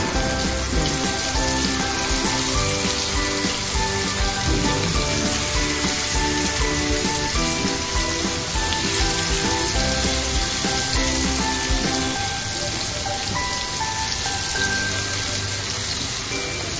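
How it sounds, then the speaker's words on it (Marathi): Stuffed shevala fry in hot oil in a pan, giving a loud, steady, dense sizzle with crackling and spitting that continues without a break throughout and has no voices over it. "आता आपण एका तव्यामध्ये तेल गरम केलेलं आहे तर त्याच्यामध्ये ती भरलेली शेवलं आपण अशी फ्राय करून घेणार आहे"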